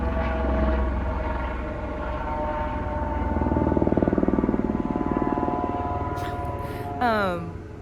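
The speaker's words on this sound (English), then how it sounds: "It's a whole helicopter up here." A low, steady rotor drone fills the scene with a pulsing throb, then a louder passing whine sweeps through near the end, with faint talk underneath.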